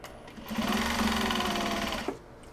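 A sewing machine runs steadily through dark top stitching on handmade Japanese-fabric gyoza bags, a close, even whirring run of about a second and a half that ends with a brief clunk. No voices.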